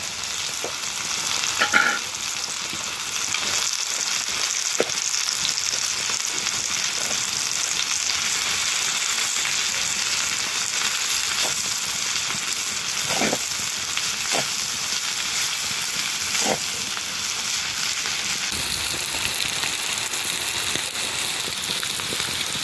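Chorizo with onion sizzling in a pan, a dense steady frying hiss with occasional pops and stirring clicks, close and continuous, no voices.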